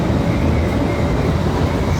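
Steady rumbling rattle of a moving metro train in Washington DC heard from inside a carriage, loud and continuous with no voices.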